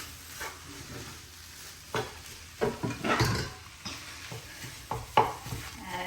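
Chicken pieces are stirred into Sri Lankan kottu, with scattered scraping and clattering of a utensil against the pan over a faint sizzle, in irregular bursts.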